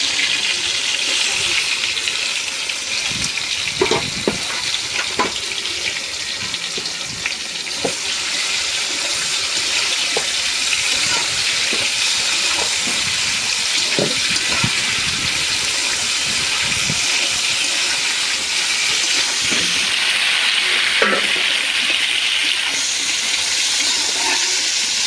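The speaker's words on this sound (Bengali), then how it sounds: "এখন হলো আমি এই কাঁকরোলগুলি ভাজা নিই।" Pieces of pointed gourd (parwal) frying in a pan give a loud, continuous sizzling hiss, broken now and then by a light clatter and a brief voice.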